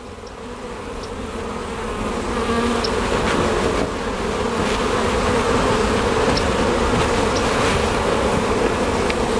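Honey bees swarm and buzz at an opened hive during a box swap, a dense continuous drone building in loudness over the first few seconds and then holding steady, close and alone without speech.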